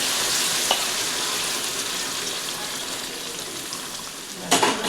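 Continuous sizzling and bubbling in a hot pan of stuffed brinjal curry, with a sudden louder surge near the end as boiling hot water hits the heat.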